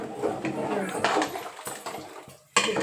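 A metal spoon stirs salted dried fish in a cooking pot, with clattering scrapes and clinks against the pot in irregular bursts, close and fairly loud, and a brief pause near the end before the stirring resumes.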